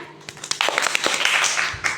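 A group applauds Pak Emir, a former student council president now its advisor, with scattered claps that build into a brief, moderately loud round of applause.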